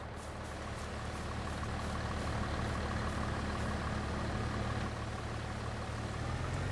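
Tractor engine in Farming Simulator 22 drives toward a mill in light rain, a steady low rumbling idle that holds level and continuous throughout, with no voices.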